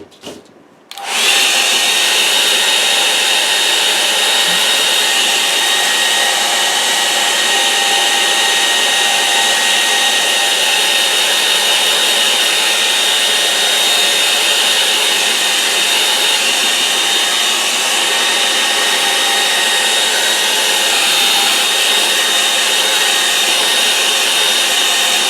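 A hair dryer blows steadily and loudly for about 25 seconds, drying an acrylic painting on watercolor paper. It kicks on after a brief click at the start and keeps up an even, close-up whoosh with no talking.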